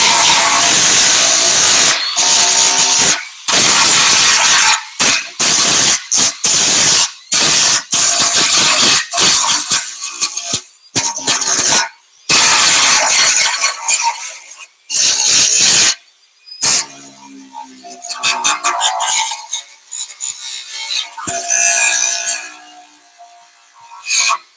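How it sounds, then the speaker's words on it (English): Grinder cleaning up a repaired car body dent, loud hissing abrasive grinding in many bursts broken by sudden stops, close by, growing sparser and lighter toward the end. "So now I'm going to clean it up with the grinder here."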